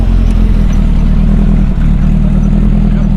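A 2-litre flat-four 16-valve turbo car engine idles loud and close with a steady, throbbing low rumble and a faint mechanical clatter, running evenly throughout with no speech.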